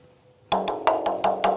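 Five sharp taps on a hollow homemade drum, evenly spaced and close up, ringing briefly after a quiet start.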